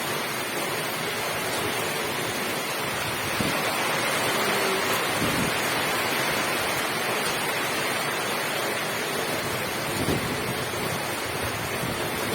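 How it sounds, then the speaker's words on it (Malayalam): Steady roaring wash of wind and rain, dense and continuous, with occasional gusts swelling and no voices. "കാറ്റും മഴയും ശക്തിയായിട്ടാണ് പെയ്യുന്നത്"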